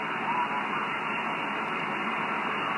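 Faint shortwave radio hiss on the SSB portion of the band, a steady broadband static wash with no clear voice or carrier standing out, continuous and even for the whole stretch.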